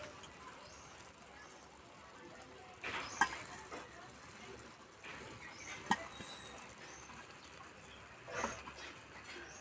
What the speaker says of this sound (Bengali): এবার প্রথমে পেঁয়াজ ভাজা দিয়ে দেবো